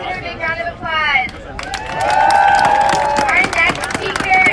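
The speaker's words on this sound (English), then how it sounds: "Let's give her a big round of applause." Crowd applause at an outdoor anti-war rally about Iran: clapping and scattered cheers from a gathered crowd, swelling midway and holding steady, mixed with raised voices and shouting over the top.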